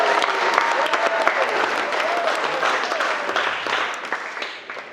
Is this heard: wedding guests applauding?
yes